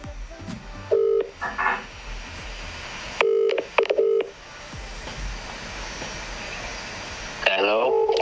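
A telephone call during a live prize draw: bursts of dialing tones and ringing, heard over a steady background hum with brief pauses between.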